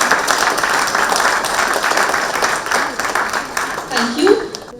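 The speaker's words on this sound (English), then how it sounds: "let's once again give a warm round of applause to welcome our guests to the dais" Warm applause from a summit audience welcoming guests to the dais, dense close clapping that swells and tapers near the end, with a voice briefly heard over it.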